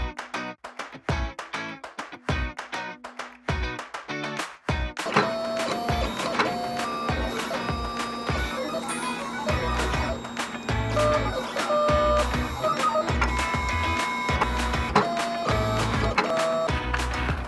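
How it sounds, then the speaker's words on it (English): Vinyl cutter slicing a heat transfer vinyl design for a doormat, starting with a string of sharp separate clicks and then settling into a steady mechanical whir broken by fast ticking steps, close and fairly quiet. "all that's left to do is to cut my design"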